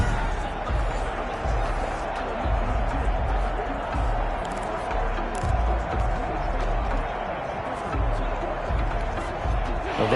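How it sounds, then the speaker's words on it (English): A stadium crowd in a PS4 American football game keeps up a steady, dense roar with scattered cheers, while a commentator speaks over it. "That just means this crowd's going to get even louder."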